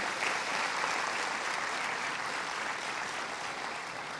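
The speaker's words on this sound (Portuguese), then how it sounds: "você pode aplaudir mais forte" Church congregation at a Sunday morning celebration service clapping steadily, a dense, even wash of applause from many hands filling the room with no voices standing out.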